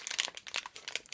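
Crinkly plastic vitamin sachets, a pair of AM and PM packets, being pulled apart, giving a quick run of close, bright crinkling and crackling rustles with no talking.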